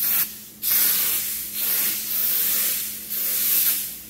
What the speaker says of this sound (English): I'm going to put a little cooking, just a little cooking spray on it